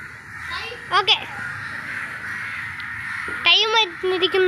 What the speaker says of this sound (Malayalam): നിറയെ കാക്കയൊക്കെ പറക്കുന്നു കണ്ടോ